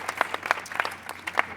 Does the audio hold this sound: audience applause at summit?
yes